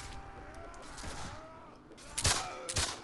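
Pistol gunfire in a Caribbean pirate video game, a background of scattered distant shots and rumble, then a few sharp, louder cracks near the end. Speech is faintly present.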